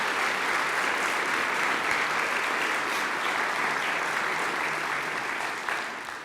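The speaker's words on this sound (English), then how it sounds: "can we give our nonprofits a round of applause?" An audience applauds nonprofits during a mayor's 2017 State of the City address, a dense, sustained clapping that fills the room evenly for several seconds before beginning to fade at the end.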